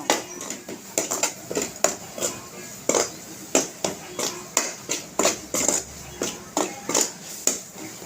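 Spice powder being stirred into a cooking pot of mushroom gravy, with a fast, regular run of sharp metal spoon clanks and scrapes against the pot, close and fairly loud, over a low background hiss.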